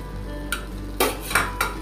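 Maida flour cooking in melted butter in a pan over a low flame: a soft, steady sizzle close by, broken by three or four quick scraping strokes of a spoon, with no one speaking.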